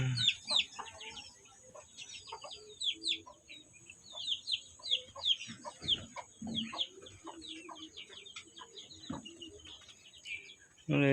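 A hen clucks softly near a group of her chicks, whose busy, high peeping chirps run almost continuously, with a few louder clucks and knocks scattered among them.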